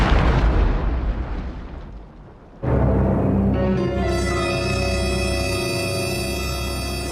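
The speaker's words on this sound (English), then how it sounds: "Suddenly, there was a gigantic explosion" A gigantic explosion effect in a radio drama about Superman, with a broadband roar that dips, then erupts into a loud sustained rumble with ringing tonal debris lasting several seconds.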